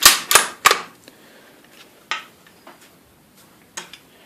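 A firearm fires three quick, loud, sharp shots close together, followed by fainter scattered cracks and clicks and a couple more distant reports, with no talking.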